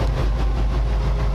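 An old Krone hay baler runs steadily in a field, a continuous low mechanical rumble with faint rhythmic clatter, close and unbroken.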